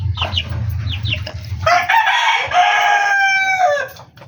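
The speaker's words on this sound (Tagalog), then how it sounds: "Ayan yung mga iba po nating manok." Chickens cluck in short rapid bursts close by, followed by a rooster's drawn-out crow, with a low engine-like rumble underneath at the start.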